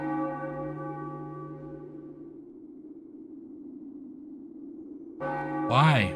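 A church bell in the Final Fantasy IX video game tolls a long, ringing tone that slowly decays into a low hum, then a second bright strike sounds near the end, loud and alone with no music.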